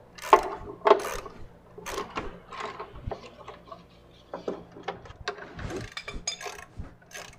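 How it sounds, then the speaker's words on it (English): Small 10mm bolts being backed out on a Jeep Wrangler Rubicon, with quiet irregular ratcheting clicks and light metallic ticks spread across the clip, close and faint, no speech. "So we'll get these out. These are a 10mm bolt, and there are several of them."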